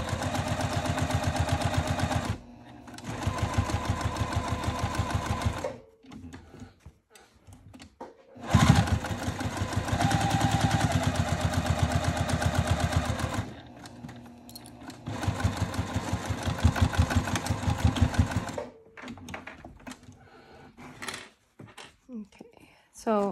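A sewing machine runs in several long bursts, rapid steady stitching along the bottom edge of a crossbody bag, separated by short pauses with handling clicks and rustles, close up.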